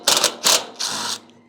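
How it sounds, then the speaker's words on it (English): Three short bursts of a power driver whir up close as it backs heat shield screws out of a Masterbuilt gravity smoker, with brief pauses between them. "So there are just a few screws all the way around holding this heat shield on."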